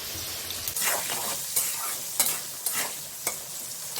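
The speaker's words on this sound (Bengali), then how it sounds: "জিরে, তেল গরম হয়ে গেছে, আলুটা ভেজে নেব" Potato pieces fry in hot oil with cumin, turmeric and salt, giving a steady sizzle broken by sharp, regular taps and scrapes of a stirring spoon against the pan, with no talking.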